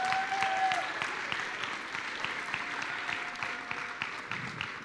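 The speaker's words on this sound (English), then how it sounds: "A round of applause to all the teachers who are here with us." Applause for teachers at a school event, a steady moderate patter of clapping from a gathered audience that holds evenly throughout, with a faint tone in the background.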